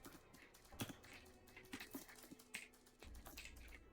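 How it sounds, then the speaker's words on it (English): Quiet, steady typing on a computer keyboard, soft irregular key clicks with a few louder taps, over low background noise. "Also, is my keyboard loud for the recording?"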